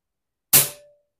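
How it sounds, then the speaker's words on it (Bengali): A single sharp, loud crack as a PX120 Minotaur .177 air rifle is dry-fired with no pellet, close by with a brief metallic ring afterwards, set against silence. "আমরা একটা লোড করব, জাস্ট ফাঁকা ফায়ার, আওয়াজটা দেখবো আমরা।"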